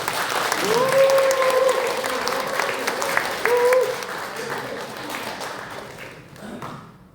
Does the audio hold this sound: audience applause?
yes